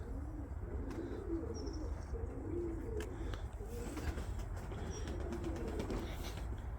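Pigeons cooing outdoors in rural Turkey, soft repeated low coos over a quiet, faintly noisy background, with occasional thin chirps from other birds and no talk.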